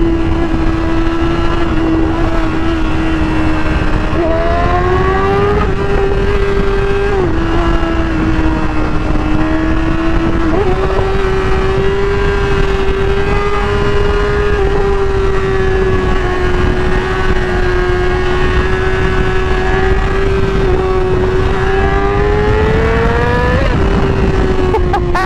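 A small 600cc sport motorcycle is ridden at speed, its engine droning steadily and loudly with slight pitch rises as it accelerates through gears, under heavy continuous wind rush with no talk.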